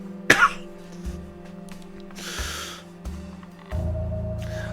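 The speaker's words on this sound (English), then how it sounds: "Sorry about the coughing." Several sharp coughs from a person playing a point-and-click adventure game, a loud burst near the start followed by softer throat sounds over a steady background hum.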